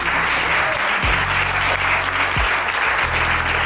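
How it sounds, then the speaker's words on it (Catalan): An audience at a youth empowerment talk claps steadily, a full and even applause held throughout, with a low hum underneath. "demano un fort aplaudiment per la Sònia"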